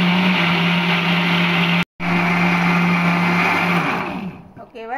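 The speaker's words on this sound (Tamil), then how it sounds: "ஓகேவா, பிளெண்டர் பண்ணலாம்." An electric blender grinding apam batter ingredients with coconut whirs loudly and steadily, briefly cutting out, then running on before spinning down.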